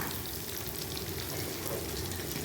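Raw mango pieces for pickle frying in hot oil in a pan, a steady dense crackling sizzle that holds evenly throughout with no voices.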